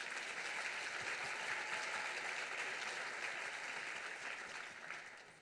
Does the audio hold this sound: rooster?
no